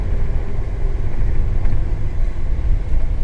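Isuzu refrigerated cold plate truck engine running at about three-quarter throttle, a steady low rumble that stays loud and continuous throughout.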